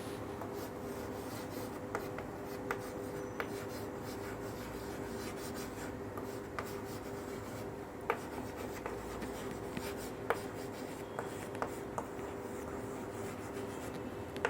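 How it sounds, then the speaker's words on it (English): A teacher writes the lesson topic on a classroom board, producing a steady, continuous scratchy rubbing with occasional small taps over a constant room hum. "I'm going to write topic on the board, let's keep the earth clean."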